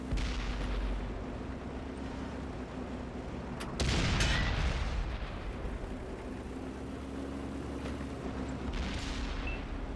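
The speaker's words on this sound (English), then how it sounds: "I took a couple of sloppy shots there and ended up taking 2 big hits" Tank cannon fire in the console game World of Tanks, a loud sharp blast near the middle followed by a rumbling decay, with a fainter shot later over a steady engine drone; no one speaks.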